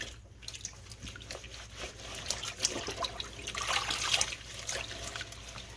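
A chest binder hand-washed in a basin of water, with continuous close sloshing, trickling and dripping that swells toward the end, no voices.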